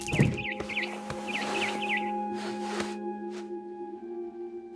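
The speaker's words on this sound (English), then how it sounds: "Then I heard chirping outside my window. It was a barn swallow going back to her nest." A barn swallow in What Remains of Edith Finch gives a string of about six or seven quick, evenly spaced chirps, fairly clear against a steady game hum with a few soft swishes.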